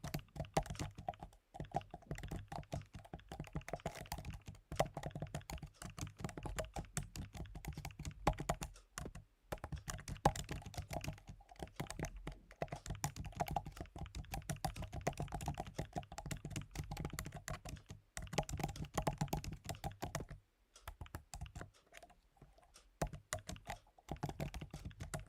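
Continuous rapid typing on a computer keyboard, dense irregular clacks with brief pauses, close but low in level and heard alone.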